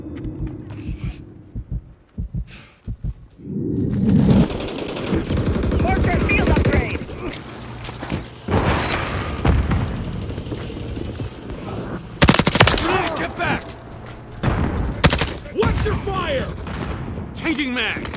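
Bursts of automatic gunfire and single shots in a Call of Duty Modern Warfare III beta match, loud and close, mixed with explosions and game effects, with shouted in-game voice callouts in places.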